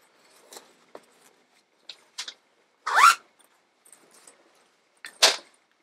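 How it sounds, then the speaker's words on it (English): A zipper on a medium knitting project pouch is worked in short separate pulls, a few faint ticks and two louder, close zips, with quiet gaps between. "This medium zipper with white polka dots on the inside, and it comes with a matching needle keeper."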